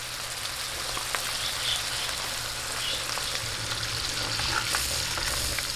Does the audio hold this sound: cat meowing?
no